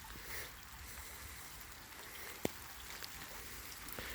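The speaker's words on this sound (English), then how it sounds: "Yeah, raining out pretty hard." Heavy rain falling outdoors makes a steady, dense hiss, with a sharp knock and a few faint drips rising above it.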